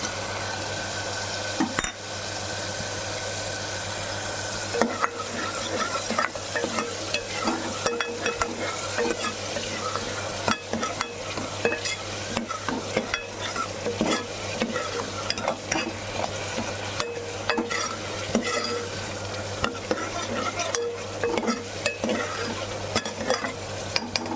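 Spice masala stirred and sautéed in hot oil in a pan, making a steady, close sizzle with frequent scraping stir strokes over a low constant hum, and no talking.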